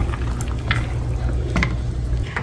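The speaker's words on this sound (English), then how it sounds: "Of course, give it a stir so they don't stick." Pasta stirred in a pot of boiling water, a low bubbling rumble with a few soft scraping and sloshing strokes of the spoon, close by.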